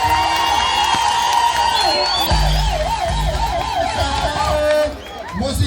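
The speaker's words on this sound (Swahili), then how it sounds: "Makofi kwa hiyo mtoto." A crowd at a Murang'a gathering with the governor cheers a young girl performer, with excited whoops and warbling high-pitched calls over a noisy hubbub of voices, dipping briefly near the end.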